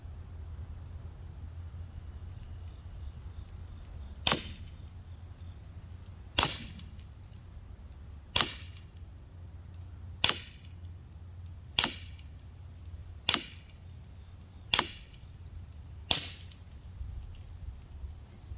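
Umarex SA10 air pistol firing eight sharp shots at a steady pace roughly every one and a half seconds, each a crisp close snap over a low background hum.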